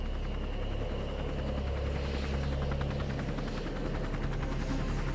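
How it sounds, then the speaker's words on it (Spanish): A helicopter, apparently a Huey, drones steadily with a rhythmic rotor thump and engine buzz, sounding moderately distant and continuous throughout. "¡Un helicóptero, papá!"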